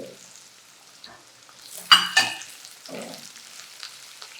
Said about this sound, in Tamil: இப்போ வெங்காயம், பெரிய வெங்காயம் முதல்ல அதை போட்டுருங்க.